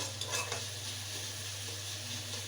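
Onion fries lightly in a pan, giving a soft, steady sizzle that stays faint and even, with a few light stirring clicks near the start.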